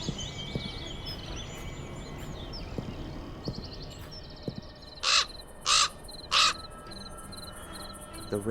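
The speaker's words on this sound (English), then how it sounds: "The raven flew out of a crack in the rock." A raven caws three times in a rocky outdoor scene in the Black Mirror 2 video game, each caw loud, harsh and evenly spaced, over a steady backdrop of chirping crickets and insects.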